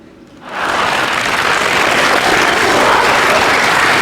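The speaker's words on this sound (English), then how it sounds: "she was almost clapped off the show" Studio audience on the ABC panel show Q&A breaks into loud, sustained applause after a brief quiet start, a steady wash of clapping filling the room.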